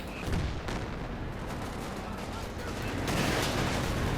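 Panther tank fire in the real-time strategy game Company of Heroes 2, heavy cannon booms and gunfire crackle over a dense, continuous battle din, loud and steady with no clear pause.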